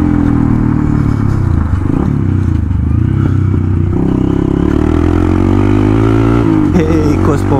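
Modified Hero Impulse motorcycle engine running loud and close, a steady rumbling drone with rising revs and some rattling clatter throughout.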